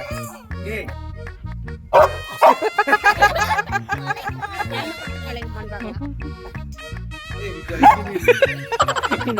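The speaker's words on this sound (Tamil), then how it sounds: "பார்க்காமலே குலைக்குது விசு." A dog barks repeatedly in loud, close bursts, some in quick runs, with people's voices mixed in between.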